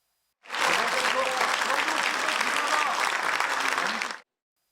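Ruling-party lawmakers in a national assembly chamber applauding during a presidential speech, a sustained, even burst of many hands clapping that starts abruptly and stops after a few seconds, no voices heard.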